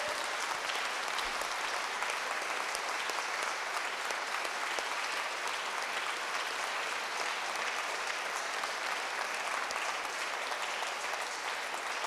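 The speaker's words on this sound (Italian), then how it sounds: "Io farei un applauso anche per questo momento di riflessione." Steady applause from a conference audience, with many hands clapping evenly and continuously at moderate distance for the whole stretch, with no voices standing out.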